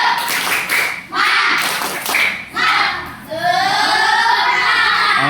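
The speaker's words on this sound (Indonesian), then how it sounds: "Sebelum Bapak cek, tepuk tangan dulu yuk semuanya." A class of children claps together in bursts of rapid hand claps that rise and break off several times, loud and close, ending in a sustained spell of group clapping with voices mixed in.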